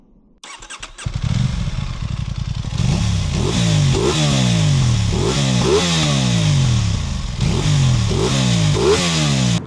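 An Aprilia motorcycle engine fires up after about a second, then is revved repeatedly in loud, close rising-and-falling sweeps over a steady idle, with no talking.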